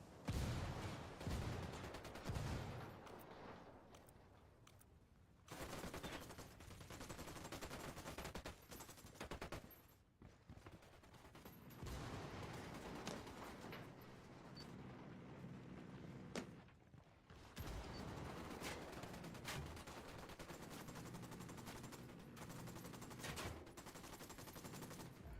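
Heavy gunfire and mortar blasts from the Ghost Recon video game, with dense bursts of automatic fire, booming explosions and short lulls filling the scene loudly throughout.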